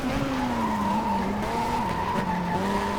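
Tires skid and squeal under late braking as a car in a racing video game slides into a corner, a continuous wavering screech over engine drone with no voices.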